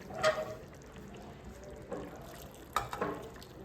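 Heated water is poured into a pot of mutton bone soup, giving faint, soft splashing and trickling with a few brief gushes over low background noise and no talk.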